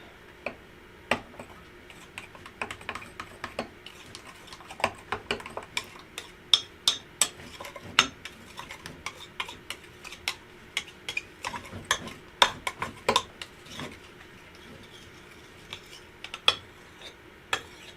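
Soft fishing bait mixture being stirred in a container, with irregular clicking and scraping taps of the utensil against the sides, close and fairly quiet, with no talking.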